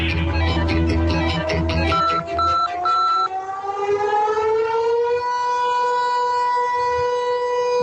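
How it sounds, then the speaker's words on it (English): A civil defense emergency siren near the Vermont Yankee nuclear power plant, sounding in a test, winds up from a jumble of tones into a loud, sustained wail that holds steady. "This siren tests the emergency alert system in the towns surrounding the Vermont Yankee nuclear power plant"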